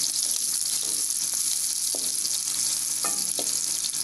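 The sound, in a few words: onion frying in hot desi ghee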